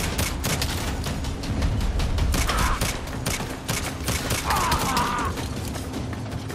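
Sustained gunfire from the video game Saints Row 5, dense overlapping shots and bursts forming a loud, continuous barrage throughout with no pauses.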